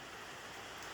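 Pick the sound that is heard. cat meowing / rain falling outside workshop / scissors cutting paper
rain falling outside workshop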